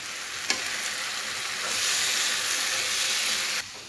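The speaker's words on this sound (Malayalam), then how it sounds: "വറുത്ത മീനും കൂടെ ഇട്ട് കൊടുക്കാം കൂടെ ഒരു മുക്കാൽ ടേബിൾ സ്പൂൺ നെയ്യും കൂടെ ഒഴിച്ചു കൊടുക്കാം" Fried fish and ghee sizzle in a pan for fish biryani, a close, steady frying hiss with a brief clatter near the start that swells slightly midway.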